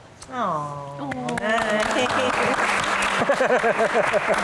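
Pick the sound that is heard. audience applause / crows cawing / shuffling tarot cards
audience applause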